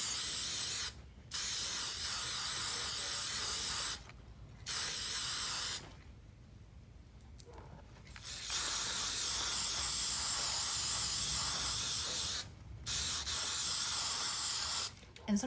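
Spray paint hisses out onto wood beads in several long bursts with short pauses between them, close and steady, with no talking.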